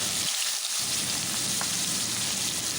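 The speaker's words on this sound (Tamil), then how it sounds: "எண்ணெய் சூடானதும் நம்ம நறுக்கி வச்ச வெங்காயத்தை ஆட் பண்ணிடலாம்" Chopped onions sizzle in hot oil in a kadai, a steady close broadband frying hiss that holds throughout, with a brief muffled knock near the start.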